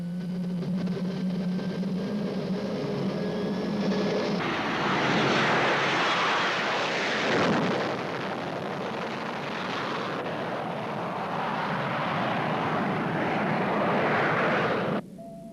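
A fixed-wing airliner's engines roar steadily as it prepares for takeoff, a loud continuous rumbling whine that swells midway and cuts off abruptly near the end, with no talk over it.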